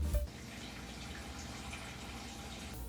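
Water trickles into a cornstarch slurry for chicken and dumplings, a steady soft pouring wash with a faint drip at the start, close and quiet with no voices.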